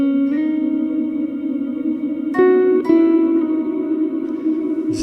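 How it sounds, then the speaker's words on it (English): Infinite-sustain reverb from an AI music plugin holding a sustained synth tone in a continuous wash, with a couple of new notes swelling in and ringing on without decay, nothing else heard. "next you've got infinite mode, which is a infinite sustain reverb."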